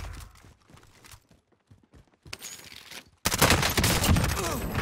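Dense gunfire bursts out in the video game Modern Warfare Warzone, sparse pops and footsteps first, then a sudden loud sustained fusillade of rapid shots.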